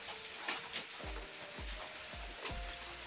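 Soybean chunks fry in a pan with pumpkin curry, giving a constant sizzle. Repeated dull thumps and scrapes mark regular stirring about every half second.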